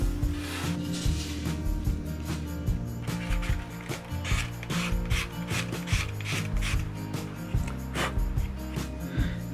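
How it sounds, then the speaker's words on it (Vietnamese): A knife carves soft wood along the grain while shaping a wooden goose, giving repeated close scraping and rasping strokes in an uneven rhythm, over quiet background music. "mình phải gọt theo cái thớ gỗ, mình gọt ngược lại nó sẽ bị xước mất"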